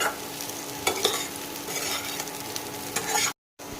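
Potatoes fry in oil with chopped dried red chilli and are stirred continuously, giving a constant close sizzle broken by scraping strokes of the spatula and a brief gap near the end.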